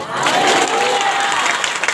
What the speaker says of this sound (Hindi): ताली बजा के बोलो ना